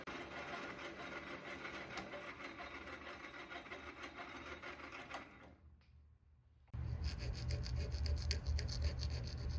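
A small lathe cuts metal with a homemade finishing tool bit, making a steady, even grinding hum. The sound pauses briefly to near silence, then resumes louder with a deeper motor drone.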